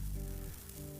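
Flux boils and sizzles on hot steel in a forge fire during forge welding, a faint, brief fizzing hiss over a low steady hum.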